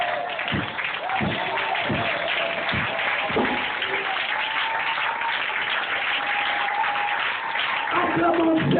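A church congregation applauding during a Sunday service, a steady wash of clapping throughout, mixed with a voice and musical tones over the crowd.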